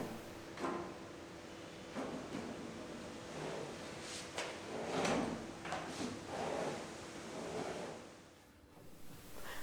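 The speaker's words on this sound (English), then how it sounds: "Insert the drawer to check that the runners are fixed properly." Wooden drawer from a piece of solid wood furniture sliding in and out on its fixed runners in a carpentry workshop, giving soft repeated scraping rubs and light knocks over a steady background hiss.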